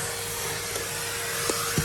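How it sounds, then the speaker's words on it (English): A vacuum cleaner drones steadily and close, cleaning plant bits off windowsills, a constant whirring roar with a couple of faint knocks. "Vacuum all these little bits of plant off the windowsills"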